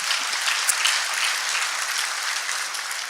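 Audience at a chamber of commerce industry panel breaking into a round of applause, a full, even wash of many hands clapping that holds steady throughout.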